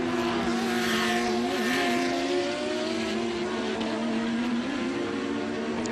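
GT race cars at Sebring during an International GT Sunday enduro, engines droning loudly with shifting pitch as they pass along the track, steady and continuous without pause.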